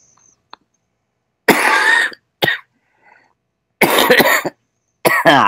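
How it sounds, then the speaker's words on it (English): Several loud, close coughs in separate bursts, with short silent gaps between them. "I love hearing coughing in my ear"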